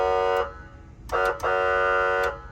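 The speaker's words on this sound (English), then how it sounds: "So we have the air horn." Loud, blaring police car air horn blasts up close: one short honk, a brief double honk, then a longer sustained blast, with quiet gaps between.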